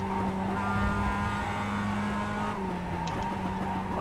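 A production race car's engine on the Charlotte Motor Speedway Roval in the iRacing sim, a loud, steady drone with its pitch shifting as the car rotates through a corner and gets back on the gas.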